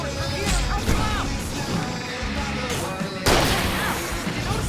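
Bursts of gunfire with booming impacts in the PC game Alan Wake, loud and dense, mixed with shouting voices over a busy action soundtrack.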